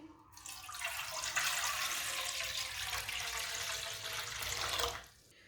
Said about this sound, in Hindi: 2 गिलास पानी डाल लेंगे कढ़ाई में